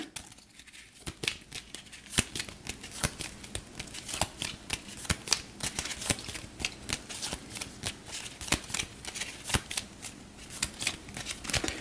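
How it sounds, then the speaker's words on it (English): Allied conflict cards for a World War II board game being shuffled by hand, a steady run of crisp riffling snaps and soft card slides, close and fairly quiet, with no talking. "So we'll shuffle the Allied conflict cards up"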